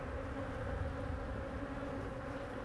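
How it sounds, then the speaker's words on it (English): Dense swarm of honeybees droning steadily around an open beehive during a swarm-cell check, a continuous close, moderately loud hum with no talk. "There's too many bees in here right now."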